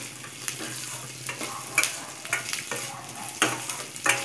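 Onions fry in a heavy-bottomed metal pan for poha upma, giving a continuous close sizzle punctuated by repeated stirring scrapes at an irregular rhythm; no speech over it.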